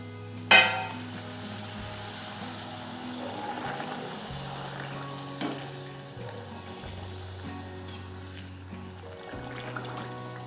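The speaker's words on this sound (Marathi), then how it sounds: "अशा पद्धतीने आपण सगळ्या कडकण्या तळून घेऊ कमी गॅसवरच तळून घ्यायच्या आहेत सगळ्या" Jaggery kadakani frying in oil over low heat, a soft continuous sizzle with a sharp clink near the start and another a few seconds later, close and moderate with a low steady hum underneath and no talking.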